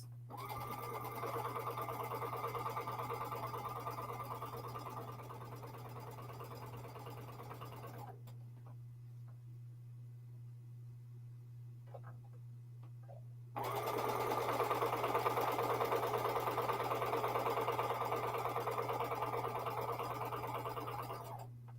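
A sewing machine stitches a big stack of half square triangle quilt pieces, a steady close mechanical whir running for several seconds, pausing briefly, then resuming louder and continuous.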